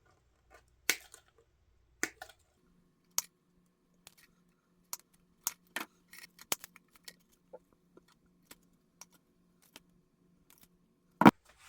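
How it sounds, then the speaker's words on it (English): Small snips cut the stems of glitter picks for a Valentine's wreath, a series of sharp, isolated clicks and snaps spaced irregularly at close range over a faint low hum. "I'm going to take my small snips and just trim away all of the stems on my glitter picks"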